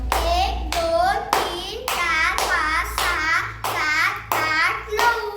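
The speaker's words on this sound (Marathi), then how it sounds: "आता नऊ टाळ्या वाजव" Children clap their hands nine times in a steady, evenly spaced rhythm, each loud, close clap ringing out clearly in a classroom counting activity for the number nine.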